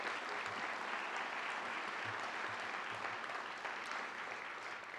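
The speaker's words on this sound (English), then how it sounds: "Once again, a big round of applause for Hall of Famer Tim Fanning." An audience at a sports hall of fame induction ceremony applauds steadily, a dense wash of clapping that fills the room for the whole stretch at a moderate distance, with no talk over it.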